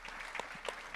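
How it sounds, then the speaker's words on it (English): Audience applause after a pro athlete's remarks in an interview, a short burst of clapping at moderate volume with no voices over it. "Give a round of applause for that, guys."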